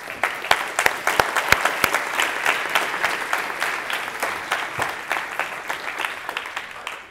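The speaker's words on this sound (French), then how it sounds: "de les applaudir bien fort" A conference audience at a tech DevFest applauds the event volunteers, sustained crowd clapping with sharp individual claps standing out near the listener, steady throughout and tapering at the close.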